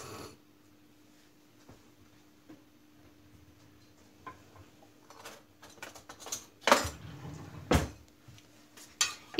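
A spoon scrapes and knocks against a pot while pumpkin and a little water are stirred on the stove, starting quietly with sparse ticks, then louder clattering scrapes and clunks toward the end, with no talking.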